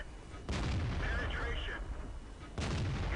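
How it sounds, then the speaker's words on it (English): Artillery fire in a tank video game played in a T69 American tank, with two heavy booming impacts about two seconds apart, loud and close, their rumble filling the clip. "I've just fired a couple shots, but I get distracted by artillery and my aim goes off"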